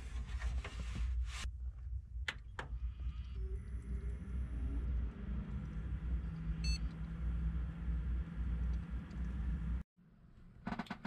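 An old desktop computer with a missing CD-ROM drive switches on and starts up: a steady fan whir and rumble, a brief high beep partway through, then a sudden drop before the hum returns.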